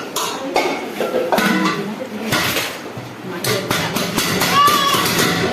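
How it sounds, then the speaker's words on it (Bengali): A small child bangs on a newly bought cooking pot, producing repeated irregular metallic clanks and clatters, loud and close, while an adult talks over them. "হাঁড়ি বাজাতে লেগে গেছে"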